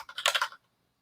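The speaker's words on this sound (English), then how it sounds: "It's right next to my keyboard, so it's really loud when I type" Rapid, dense keyboard typing, loud and close, a quick burst of clacking keys for about half a second, then silence.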